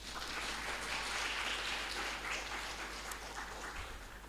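An audience at an online PRAGMA workshop on artificial intelligence and high-performance computing applauds in an even, sustained wash of clapping that lasts a few seconds, heard at moderate to low level.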